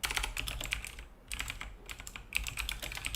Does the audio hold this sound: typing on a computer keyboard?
yes